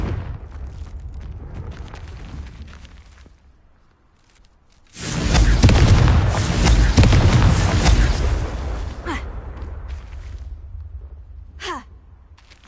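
Confringo spell explosions in Hogwarts Legacy: a low rumble gives way to a loud, roaring blast that lasts several seconds and slowly fades, followed by a few brief whooshing sweeps.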